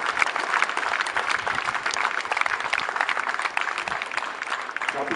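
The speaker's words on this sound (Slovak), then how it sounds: "Veľký potlesk poprosím." Audience applause at a sports cup award ceremony, dense steady clapping from a large crowd throughout, loud and even with no pauses.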